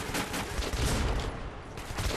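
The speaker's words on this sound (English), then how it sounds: "Stop shooting at me." Rapid sustained gunfire in the video game Metro 2033, a loud, continuous burst of overlapping shots that eases briefly before resuming.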